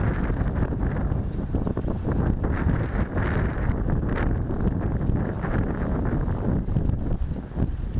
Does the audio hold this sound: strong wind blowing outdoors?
yes